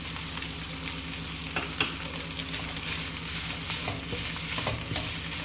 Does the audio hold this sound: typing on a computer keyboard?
no